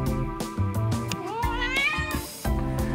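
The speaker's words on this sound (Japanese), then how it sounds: "こうやってね、ニャーニャー泣いて怒ってるように見せてね" A black rescue cat at a cat café meows repeatedly in loud, drawn-out, rising calls close by, with short pauses between them and no talk.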